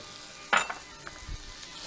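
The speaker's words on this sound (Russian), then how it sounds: "Пока лук жарится" Onions sizzle in a pan with salt and sugar for caramelizing, meant for a Flemish beef carbonnade; a sharp burst of frying hiss is followed by quieter crackles and a soft stirring scrape.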